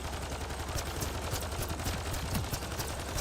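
Rapid gunfire in a sci-fi shooter video game (Mass Effect Andromeda), a steady dense run of shots and bursts over a constant loud background, with no voices.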